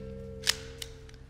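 A Glock 17 Gen 4 magazine clicks into an Umarex Elite Force Glock 45 airsoft pistol, giving a short sharp snap followed by a second smaller click, close and quiet over a steady low hum.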